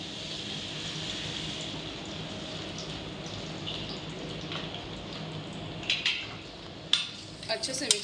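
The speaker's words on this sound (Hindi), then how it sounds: "अच्छे से मिक्स कर लूंगी इसको" Onions mixed in ghee in a kadhai give a steady low frying hiss, with a few metal spoon scrapes and clinks against the pan near the end.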